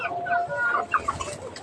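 Chickens clucking close by during feeding, a run of short, uneven clucks and squawks with faint background noise.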